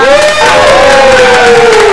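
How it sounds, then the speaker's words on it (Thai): Studio audience cheering and applauding to welcome a guest onto a Thai comedy show stage, a loud, sustained crowd roar with a steady tonal edge running throughout. "เขอเสียงปรบมือนะครับ"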